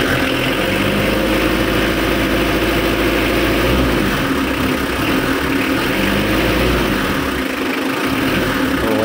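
A diesel car engine runs loud and close, idling with a steady rumble and rising briefly in a rev before settling back, with no voices over it.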